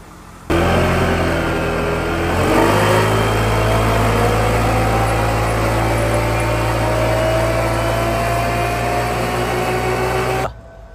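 A loud Honda ADV160 motorcycle engine with an upgraded 63mm piston runs steadily at idle then revs up slightly, a continuous mechanical drone with a higher whine, holding constant for about ten seconds.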